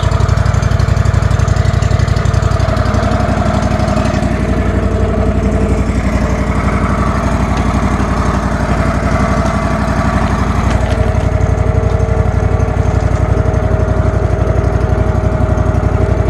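A Wood-Mizer sawmill engine runs steadily while it cuts a board, making a loud, continuous mechanical drone with no break, close by and alone without talk.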